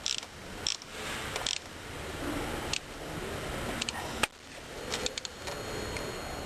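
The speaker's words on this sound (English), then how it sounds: "we'll tighten up that screw" Close mechanical clicks and ratcheting as a screw is tightened on a steering damper on a Harley-Davidson XL Sportster, irregular bursts separated by short pauses and a sharper clack near the middle.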